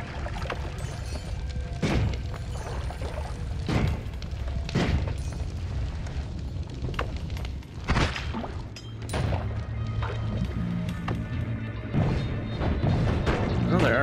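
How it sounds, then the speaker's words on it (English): Homing missiles explode in Noita with a string of crashing blasts spaced a second or two apart over a constant rumbling bed, and someone talks throughout. "Oh, missiles? okay. Lots and lots of missiles"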